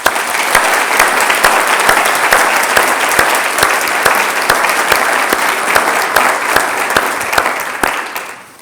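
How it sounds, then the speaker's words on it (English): A large audience at a university garden party applauds steadily, dense continuous clapping that stays loud throughout and fades only slightly at the very end. "I would just like you to join me in applauding their efforts"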